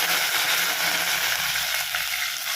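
Fennel seeds and onions frying in coconut oil in a pan for a tamarind fish curry, a steady bright hiss and crackle of sizzling oil that holds close and constant throughout, with no voices over it.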